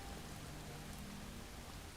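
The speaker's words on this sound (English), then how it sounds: "sucks it's raining now" Rain falls in modded Skyrim Anniversary Edition as a faint, even hiss that stays steady with no breaks.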